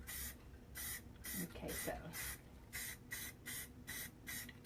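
Short bursts of an aerosol spray can hiss in a regular on-off rhythm, close and fairly loud, as paint is sprayed onto a miniature fireplace. A person briefly speaks between the bursts.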